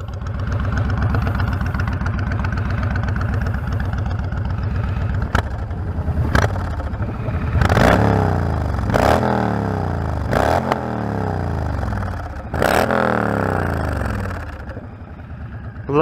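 Cruiser motorcycle engine running steadily while riding at sunset in Nebraska, a continuous low rumble throughout with several sharp clatters or bumps briefly rising above it near the middle.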